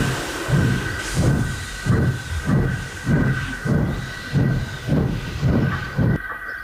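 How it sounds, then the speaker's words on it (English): Steam locomotive chuffing in a steady, evenly spaced rhythm of about eight beats over a constant hiss, moderately close with no voices, as the engine pulls away. "With a blast of his whistle, he went to fetch his return train."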